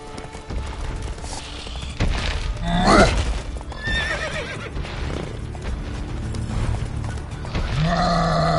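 Horse in The Witcher 3 video game, a loud whinnying neigh over clip-clopping hooves, with a second neigh near the end.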